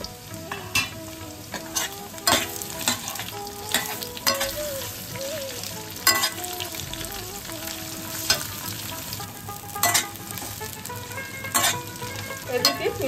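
Dried red chilli and bay leaf crackle and sizzle in hot oil for a tempering, with a steady close fry broken by repeated sharp spoon scrapes and stirring clatter against the pan.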